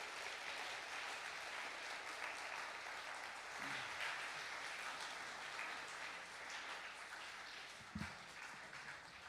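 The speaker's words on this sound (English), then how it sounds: "Let's give them all one more round of applause." Audience applause in a middle school chapel, a dense sustained clapping from a crowd that fills the space evenly for several seconds, fairly distant and soft.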